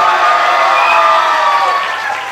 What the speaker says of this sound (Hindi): थोड़ा चिल्लाकर ताली बजा दीजिए जोर से।